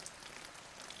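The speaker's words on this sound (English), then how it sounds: "drizzle" Light drizzle falling steadily, a soft continuous patter of fine raindrops on a surface, even and faint, with no voices.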